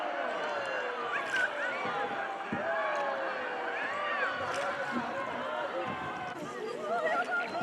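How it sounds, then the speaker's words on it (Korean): A crowd of tourists shouts and cheers together in a valley ringed by cliffs in Vietnam. Many overlapping voices rise and fall steadily and carry with an open, echoing ring. "그때 어디선가 고요함을 깨는 함성 소리가 들렸다."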